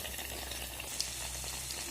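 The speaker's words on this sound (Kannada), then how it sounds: "ಎಣ್ಣೆಗೆ ಹಾಕ್ತಾ ಇದ್ದೀನಿ. ಇದು ಕಾದಿದೆ ಎಣ್ಣೆ, ಮೊದಲೇ ಬಿಸಿಗೆ ಇಟ್ಕೊಂಡಿದ್ದೀನಿ." Paneer fingers dipped in gram flour batter frying in hot oil, a faint, even bubbling sizzle throughout with one small tick partway.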